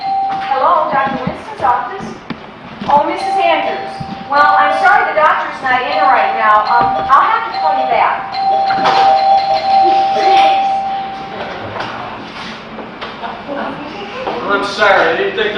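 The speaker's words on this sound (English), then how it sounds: "Then why were you ringing the bell?" Doorbell rings clearly several times, sustained chime tones sounding among people talking in a stage play setting.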